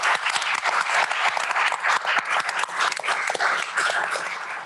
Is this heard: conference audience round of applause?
yes